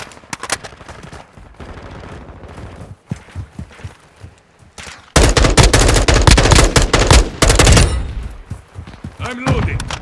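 Automatic weapon fire in Call of Duty Modern Warfare II multiplayer on PS5, loud rapid bursts that intensify into sustained heavy firing midway, with scattered shots and game effects around them.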